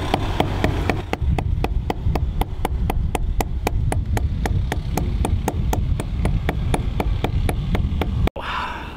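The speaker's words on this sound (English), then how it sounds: "I've worked up a good sweat hammering this here spigot all day." A metal spigot is hammered into a maple pole, producing a long run of evenly spaced sharp knocks close by, about three or four blows per second, then a sudden stop.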